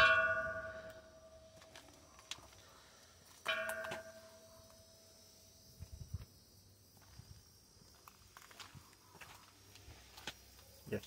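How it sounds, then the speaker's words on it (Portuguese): A small bell in a farm chapel in Bragança Paulista, São Paulo, is struck twice a few seconds apart, each ring decaying quickly. It is faint overall, followed by light footsteps and small clanks. "Temos aqui um sino."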